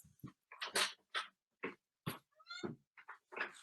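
A pet cat makes several short meow-like calls, close by, separated by brief pauses in an otherwise quiet room during an online meeting.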